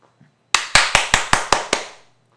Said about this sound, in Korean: 우리 모두에게 박수 한번 칩시다